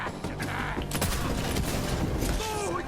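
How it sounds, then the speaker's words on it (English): Shotgun blasts in Borderlands 3 amid busy game combat, a few sharp booming shots with mechanical clatter and rattling debris, loud and dense throughout. "Somehow this shotgun is way more satisfying than any other shotguns"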